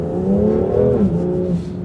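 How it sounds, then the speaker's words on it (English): A 2019 BMW M2 Competition in M mode with exhaust flaps open gives a short, loud rev, its engine tone rising and then settling, heard close with no talking. "So once you put it in the M mode, the flaps and the exhaust open,"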